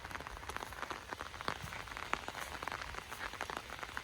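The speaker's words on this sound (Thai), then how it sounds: "เราชมบรรยากาศฝนตกยามเช้าสดชื่นเด้" Morning rain falls steadily on a garden, with a dense patter of drops on leaves and surfaces. It is soft and even throughout, with no voices.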